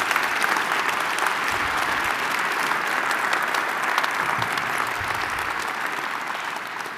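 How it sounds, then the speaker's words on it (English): Audience applause at a live event, a long, even round of many hands clapping, full and steady from start to finish with no speech over it. "Big round of applause for Alan."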